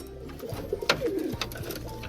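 Pigeons coo in low, throaty bursts amid scattered clicks and fluttering, fairly quiet and close, with no talking.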